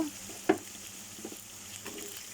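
Meat and onions frying together in a pan, giving a steady faint sizzle with a sharp clatter of stirring near the start and a few softer scrapes after.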